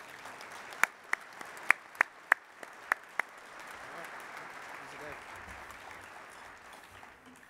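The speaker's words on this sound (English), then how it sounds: "Let's give these motivated sailors a round of applause." A handful of sharp, separate hand claps rings out at an enlisted sailors' awards ceremony, then fades into a quiet room murmur; the clapping is sparse and brief rather than a full ovation.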